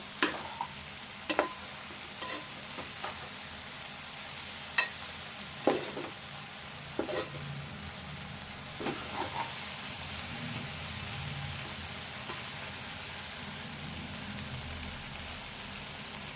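Okra frying in a pan for soup: a soft, steady sizzle with scattered clicks and taps of stirring early on, fairly quiet and without speech.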